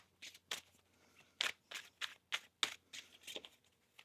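A deck of tarot cards being shuffled close by and quietly, a run of about ten short, crisp riffling bursts in an uneven rhythm, with no voices.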